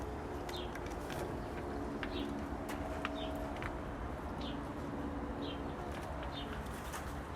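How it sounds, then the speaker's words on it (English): Soft, repeated pigeon or dove coos sound at roughly one-second intervals, faint and somewhat distant over a steady low background hum. "Bird."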